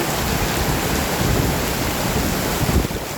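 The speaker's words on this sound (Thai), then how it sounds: "ฝนตกแรง" Heavy rain in Bangkok pours down in a dense, steady hiss that stays loud and unbroken throughout.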